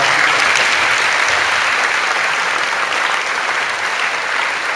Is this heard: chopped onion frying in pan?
no